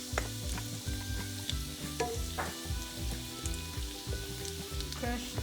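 Crushed garlic and ginger sautéing in hot oil for a chicken Manchurian curry, a steady close sizzle and crackle with a few soft stirring scrapes, no voices.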